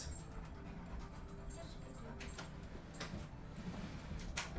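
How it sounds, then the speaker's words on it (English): A dog whimpers faintly indoors, with soft, intermittent whines over a low, steady background hum. "Sorry, my dog is being troubling."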